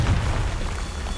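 A Confringo fire spell bursts in Hogwarts Legacy, a deep booming blast with a rumbling low tail, close and loud with no talk over it.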